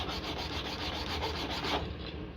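A metal file rasps down notches on the throttle-side grip of a 2019 Suzuki GSX-R600 during a heated-grip install, making quick, even back-and-forth strokes up close with no talking.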